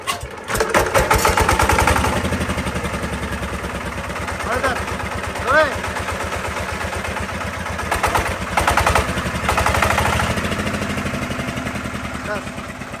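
A Sifang 25 horsepower engine, newly unboxed, starts and runs with a steady rumbling, pulsing rhythm that swells and dips under nearby speech.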